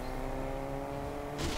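A car engine in a video game hums steadily at close range, a low drone with a slight rise in loudness near the end and no talk over it.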